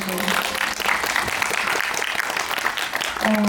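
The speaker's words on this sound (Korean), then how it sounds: "박수 한번 주세요" A film screening audience at a Korean guest-visit event applauds steadily for a few seconds, a dense, fairly close patter of many hands, with a voice briefly heard at the start and again at the end.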